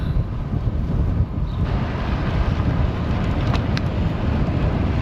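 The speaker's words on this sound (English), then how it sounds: "Oh, 25-mile-an-hour headwinds today." A strong headwind buffets while cycling on a road in Mallorca, a loud, constant low rumble of wind noise across the microphone, with faint higher sounds near the end.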